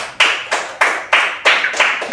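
Classroom of students clapping for a classmate named Ega, about eight loud, evenly spaced claps in a slow rhythm, close and alone with no talk.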